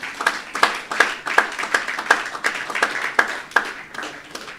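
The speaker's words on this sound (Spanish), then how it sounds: "Um aplauso para a juventude." A small congregation at a church service claps in a slow, even, rhythmic beat of about a dozen distinct claps, close and clear, with no talking.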